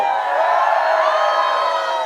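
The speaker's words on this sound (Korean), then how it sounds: "함성 한번 보내주세요" A crowd at an outdoor concert at Gamami Beach cheers and screams together in a sustained, high-pitched roar that holds steady throughout.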